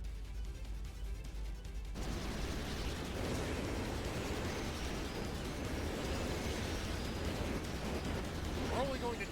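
Battle in the video game Sand Land, with a cannon blast and explosions rumbling into a heavy, continuous roar of fire and debris that stays loud for several seconds.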